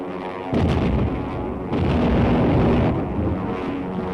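Gunfire aimed at an aircraft in a 1937 serial, a dense roaring barrage of blasts in two long loud bursts with a brief lull between, no voices over it.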